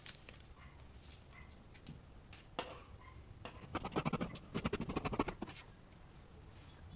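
Scissors cut through shirt fabric along a sleeve's curved armhole, giving a run of close, crisp snipping and scratchy rustles in the middle of an otherwise quiet stretch, near and moderately soft.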